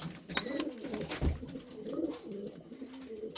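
Pigeons in a loft coo softly during evening feeding, several low, rolling throaty coos overlapping in a quiet indoor space, with faint chirps and a light thump.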